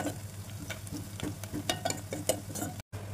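Onions frying in a pan for a Telugu-style omelette curry, giving a steady broadband sizzle with brief scraping stirs throughout and a short dropout near the end, without talk.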